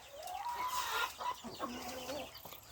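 Chickens clucking in a garden, several birds making short broken calls and squawks at close range with a rising crowing-like call near the start, no talk.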